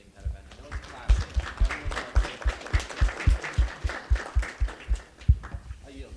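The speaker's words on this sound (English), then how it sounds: "round of applause for Webb for hosting that event" A round of applause at a student government meeting, heavy, evenly paced thumping claps in a steady rhythm building and carrying on for several seconds, with voices murmuring underneath.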